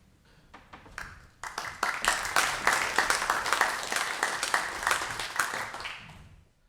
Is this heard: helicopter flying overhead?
no